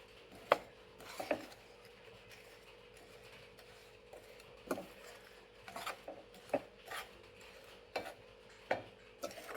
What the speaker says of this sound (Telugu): బెల్లం మొత్తం కరిగిపోయేలా కలుపుతూ ఉండాలి.